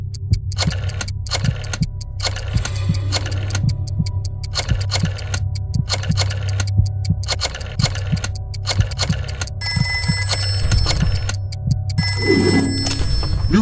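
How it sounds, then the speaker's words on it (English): A rotary phone in a video game is dialed and rings, with rapid clicking bursts repeating over a steady low hum, and bright ringing tones joining near the end. "Dial one of these numbers on your rotary phone before anyone else, or you die."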